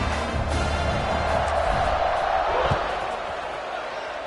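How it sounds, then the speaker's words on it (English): Steady roar of a stadium crowd in a football video game, buzzing loudly throughout after a score, with a commentator talking over it. "this crowd is buzzing after that last score"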